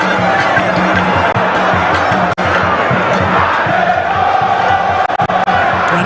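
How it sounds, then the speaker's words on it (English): Football supporters at a stadium match between Asante Kotoko and Hearts of Oak roar continuously in a loud, dense crowd wash with a steady rhythmic chant beneath, sustained throughout with brief dips. "And the fans will keep on cheering both sides on."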